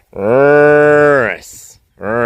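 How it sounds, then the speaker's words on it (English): Katunguru cattle mooing up close: one long, loud, deep moo, a short breathy pause, then a second moo starting. "It's amazing when you're surrounded by cattle."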